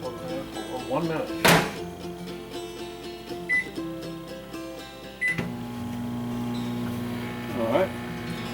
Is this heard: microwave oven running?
yes